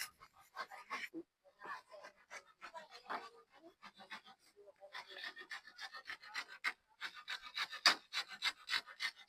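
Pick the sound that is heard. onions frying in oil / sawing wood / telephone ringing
sawing wood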